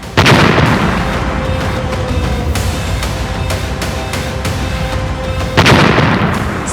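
A bomb blast in the Civil Lines area of Prayagraj: loud, continuous booming roar with sharp cracking bursts throughout, a steady tone running underneath and a fresh surge near the end.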